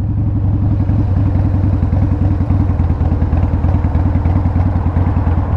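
A Harley CVO Wide Glide Switchblade idles close by with its choke mostly pulled out, giving a loud, steady, fast-pulsing low throb with an even mechanical clatter throughout.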